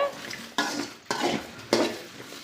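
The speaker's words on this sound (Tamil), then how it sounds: "வெண்டைக்காய் வளவளப்பு போகிறதுக்கு நம்ம முதல்ல வெறும் வானலில் வறுத்துக்கலாம்" Okra dry-roasted in an empty pan without oil, three distinct scraping stirs of a spatula against the metal pan with a faint dry sizzle between them, close and clear, no voices.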